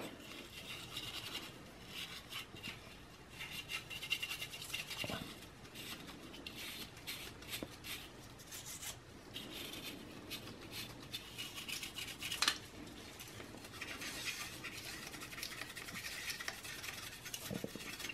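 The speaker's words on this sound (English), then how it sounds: "I'm gonna take a brush and clean off again the fan in the back." A light Colgate toothbrush scrubs the fan of a Dell Latitude E6540 laptop, giving close, continuous scratchy bristle strokes in quick uneven rhythm, with occasional small knocks against the plastic and no talk.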